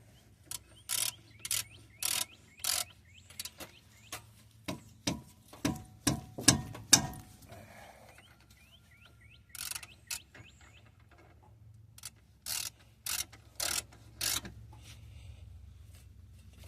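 Ratchet tightening a part on a Ford Mustang, with bursts of rapid clicking strokes close by, some runs quick and sharp, others separated by pauses and faint mechanical rattles.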